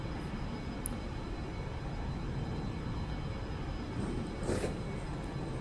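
A steady, even airplane engine drone from the X-Plane 11 flight simulator played in VR, with the throttle being raised slightly; the hum holds level throughout with a faint brief swell near the end.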